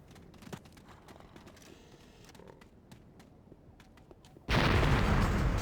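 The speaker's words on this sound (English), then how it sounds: "Those look like big explosions." Explosions from Seekers, an alien defense system in the Anarchy Online video game: a low ambient rumble with a sharp thud early on, then a sudden loud, sustained, roaring blast that fills the final second.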